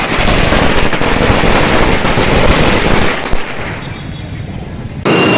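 Loud, dense crackling of celebratory fireworks in Banswara, a rapid string of popping bursts that cuts off, leaving quieter background noise.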